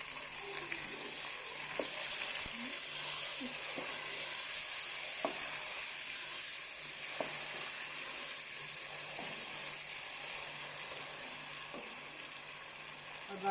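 Tomatoes and green chilies frying with onions in a pan for a zucchini curry give a steady, loud sizzle and hiss throughout, with occasional faint clicks of stirring.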